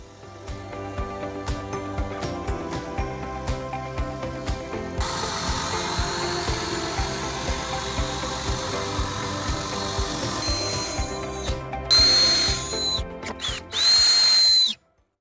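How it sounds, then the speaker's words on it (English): A power drill drives screws up through the underside of wooden shelves on a rustic farmhouse table being restored into a kitchen island, with repeated close bursts of whirring and a ratcheting clutch near the end. "The shelves are going to get screwed in from the bottom."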